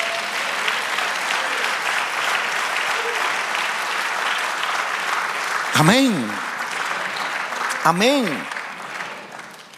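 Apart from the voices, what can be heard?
congregation applauding in church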